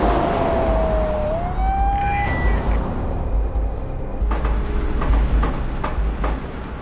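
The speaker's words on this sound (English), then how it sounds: "Police car." A police car siren wails once, rising and sliding in pitch, while a car engine hums loudly throughout, followed by a few clattering rattles toward the end.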